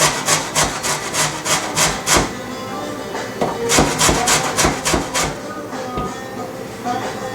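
Close, rhythmic rasping strokes of a lemon rubbed against a grater for zest, coming in quick runs with short pauses between them.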